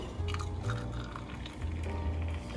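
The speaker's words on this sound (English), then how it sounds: "Add boiling water into the water tank." Boiling water pours into the water tank of an NH-Kitchen portable espresso maker in two short splashing runs with a brief pause between them, close and fairly quiet.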